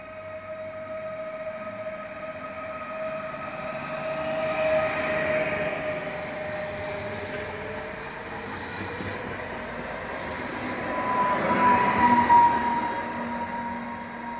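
Passenger stopping train bound for Katowice passing by; a steady rumble of rolling wagons with sustained tonal whine and squeal, loud and fairly close, swelling twice as cars roll past, with no talking.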